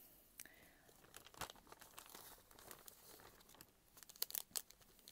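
Paper temporary English Heritage membership card being handled close by, with a run of soft crinkling, rustling and a few sharper crisp crackles toward the end, no talk over it.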